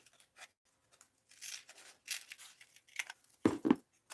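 Scissors trim the hair of a rag doll in a quiet room, giving a series of soft, close snips and rustles with two sharper, louder cuts near the end.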